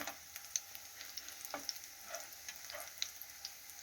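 Homemade meat cutlets frying in a pan, a faint, soft sizzle with light scattered pops, quiet and close.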